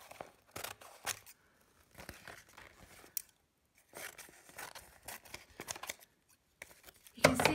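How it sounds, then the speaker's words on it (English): Scissors snip around the edges of an A4 paper collage in short, intermittent bursts of crisp cutting and paper rustle, close by and moderately quiet, with brief pauses between cuts. "So all I'm going to do is just cut along the edge."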